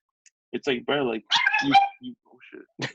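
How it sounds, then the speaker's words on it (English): A pet dog barks in a home podcast setting, short yaps mixed in with people talking close to the microphone. "Sorry, guys. That's my dog."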